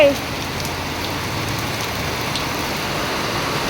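Heavy torrential rain falls in a dense, steady hiss and patter of drops on surfaces. It is loud and unbroken, with no voices over it.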